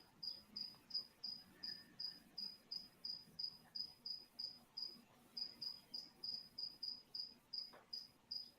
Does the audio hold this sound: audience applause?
no